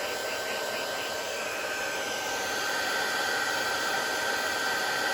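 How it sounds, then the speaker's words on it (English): A heat tool blasts hot air over embossing powder in a continuous, even, loud whooshing hiss that stays steady from start to finish with nothing else heard. "Give this a blast. My heat tool's working."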